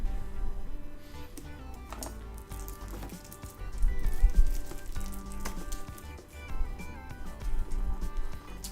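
Shrink-wrap is torn off a D&D 5th Edition starter set box, making close, irregular crinkling and crackling plastic rustles that swell and ease over several seconds, with no talk.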